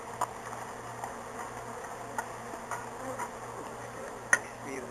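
Honeybees buzz steadily during a hive removal, a soft continuous drone with a few brief taps and clicks scattered through it, and no voices.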